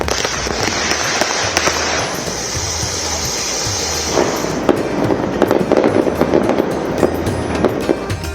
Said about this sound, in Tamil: பட்டாசுகள் வெடித்து மக்கள் உற்சாகமாக தீபாவளியை கொண்டாடினர்